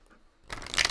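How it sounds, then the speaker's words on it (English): Tarot cards are shuffled in a short, bright riffling rush that starts abruptly after a near-silent moment and grows louder, close by. "Let's pull an animal card"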